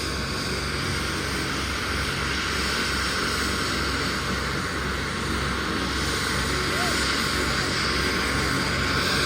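Loud, constant drone of a helicopter engine nearby, unbroken throughout.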